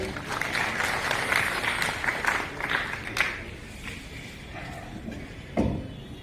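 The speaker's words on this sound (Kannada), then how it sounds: "ನಿಮ್ಮ ಪ್ರೀತಿಯ ಚಪ್ಪಾಳೆಯೊಂದಿಗೆ ಸ್ವಾಗತಿಸೋಣ" An audience at an awards ceremony applauds with steady clapping that gradually thins and fades, with a few louder claps near the end.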